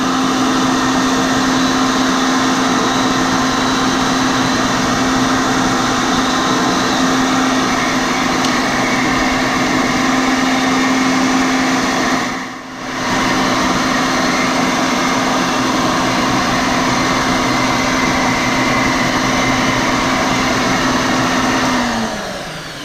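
A router cutting G10 sheet along a template, a loud steady high-pitched whine held throughout with one brief dip midway and a tapering end.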